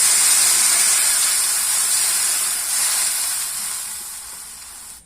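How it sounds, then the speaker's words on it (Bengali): Water poured into a pan of frying prawns sets off a loud, steady hiss of sizzle and steam that slowly fades over several seconds, with no voices. "চিংড়ি মাছটা ভালো করে ভেজে তারপরে জল দিয়ে দেব।"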